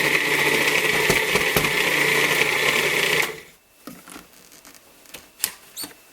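Blender grinding bananas for homemade healthy ice cream, a loud steady whirring buzz for about three seconds that cuts off abruptly, followed by quiet clicks and clattering as the jar is handled.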